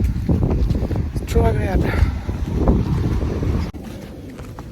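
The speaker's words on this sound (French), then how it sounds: "il y a du vent, ça fait trop du bien" Wind gusting outdoors while someone walks in hot sun, a steady loud rumble buffeting the microphone as a person speaks briefly over it.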